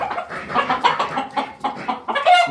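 Desi chickens cluck in quick, uneven bursts close by, several birds overlapping with short pauses and no talking.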